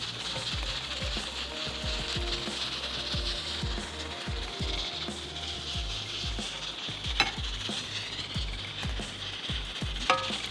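Chicken pieces fry in a hot pan with a constant sizzle, while the pieces are shifted around with repeated soft scraping and tapping strokes, close and moderately loud.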